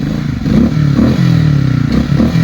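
A motorcycle labors along a rough, difficult trail, its belly scraping the ground, the engine droning close and loud with uneven revs, bumps, clatter and scrapes throughout.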